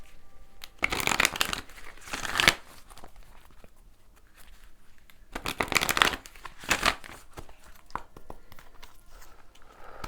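Moon tarot cards are shuffled close by in two brisk riffling bursts. A quiet stretch of faint handling noise falls between them, and a lighter shuffle follows.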